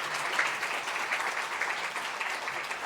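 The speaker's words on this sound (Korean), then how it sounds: "박수로 환영하겠습니다." A church congregation at a Sunday service claps steadily to welcome visiting guests, an even, moderately loud wash of many hands in a reverberant hall.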